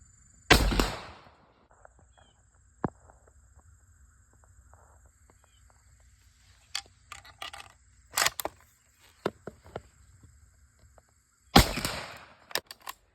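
A Remington 1903A3 bolt-action rifle fires outdoors at a range: one loud sharp report opens, a second blast comes near the end, and bolt clicks and small handling knocks fall in between.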